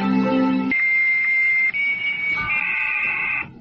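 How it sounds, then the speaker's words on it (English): A dial-up modem connection sounds in a short sequence of loud electronic tones: a low chord of beeps, then a sustained high whistle, then a shifting multi-tone handshake that stops abruptly near the end. "Newscaster explains the modem sound."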